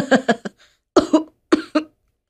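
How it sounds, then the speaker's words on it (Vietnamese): Dry, hacking coughs come in three quick close bursts of two or three each, loud and harsh, separated by short silences, with no speech around them. "rồi lại ho khẳng cọc như cái thằng bệnh"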